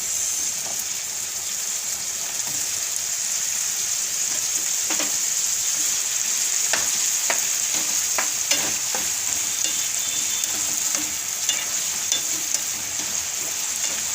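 Potato pieces frying in hot oil for a sweet potato and potato curry give off a steady, dense sizzle, close and continuous, with occasional stirring clicks and no voices.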